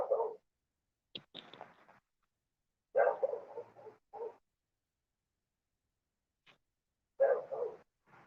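Dog barking in the distance, giving a few short, irregular barks and yips separated by silent gaps, faint and alone.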